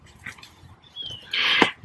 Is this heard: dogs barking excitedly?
yes